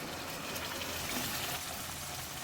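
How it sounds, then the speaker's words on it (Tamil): Water poured from a vessel into a pot of hot oil and cooking chicken, heard as a steady, close rush and gush that runs continuously throughout with no voices. "தண்ணியை ஊற்றிக்கும்"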